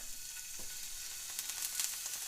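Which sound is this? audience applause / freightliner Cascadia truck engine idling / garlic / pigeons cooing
garlic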